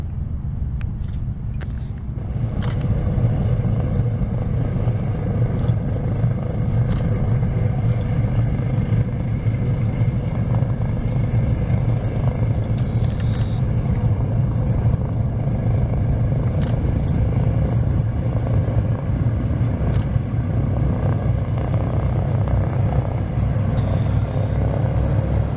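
Supercharged radial engines of a Boeing B-29 Superfortress bomber running steadily, a loud, smooth, continuous droning rumble with a few faint clicks and no talk.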